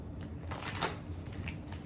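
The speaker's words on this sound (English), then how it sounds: "Let's get one more shuffle" Tarot cards being riffle-shuffled at close range, a quick papery flutter lasting under two seconds with no voice over it.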